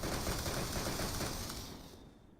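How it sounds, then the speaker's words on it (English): Rapid burst of flare-gun fireworks fire in the game PUBG Mobile, a dense crackling barrage that is loud and continuous, then fades out toward the end with no talking. "Oh, that shoots fireworks!"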